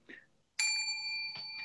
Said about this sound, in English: right here, this is the iconic bell